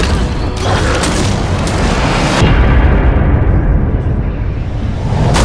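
Heavy booming blasts and sharp bursts from the Prophet's pair of flintlock pistols in Nosgoth, loud and close, with a couple of dense impacts followed by a decaying rumble.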